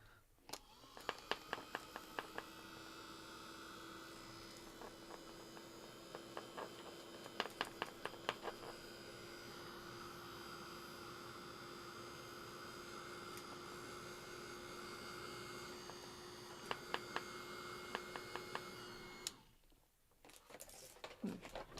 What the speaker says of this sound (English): I'm going to heat set it with my heat tool.